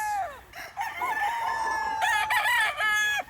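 Gray and red gamefowl roosters crowing close by on a game farm, several long overlapping crows with a few clucks between them.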